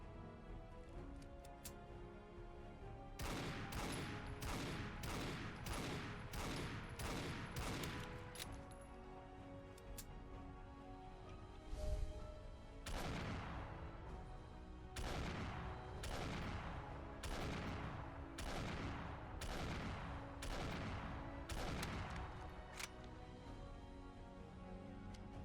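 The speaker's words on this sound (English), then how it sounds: "an explosive gunshot so loud that every time you pull the trigger, a legendary Deathclaw farts right in their hand" A custom handgun from a Fallout 4 weapon mod fires repeatedly in the video game: sharp, loud shots arrive in quick bursts and spaced single blasts, with one heavier boom midway.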